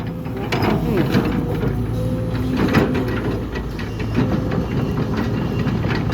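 A tractor plowing a field produces a steady, loud low engine rumble with a continuous mechanical clatter running throughout.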